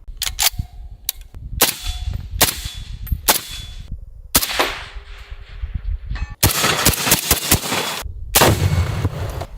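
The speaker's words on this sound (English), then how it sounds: "I got footage of this thing shooting with the suppressor semi-auto" A suppressed Remington 700 rifle chambered in 6.5 Creedmoor fires a series of sharp, loud reports with ringing metallic tails, spaced irregularly and ending in a denser cluster of shots.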